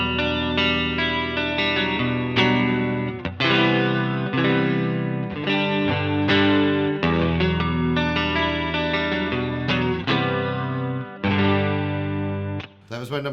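An electric guitar runs through a BOSS CE-20 chorus pedal on mode 1, strummed chords and picked notes shimmering with a wavering chorus sheen, steady and close, with a voice briefly audible near the end.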